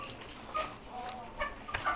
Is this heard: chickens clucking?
yes